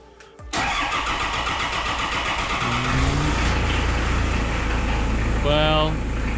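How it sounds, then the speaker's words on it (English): A Toyota 1KZ-TE diesel in a Land Cruiser Prado cranks after a short pause, then churns for a few seconds before catching into a rough, steady idle, with brief whines near the end. "Let's try to fire her up and see if that has made any difference whatsoever."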